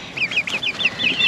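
Chickens clucking close by in a backyard coop, a quick run of short rhythmic clucks repeating over a soft background, no talking.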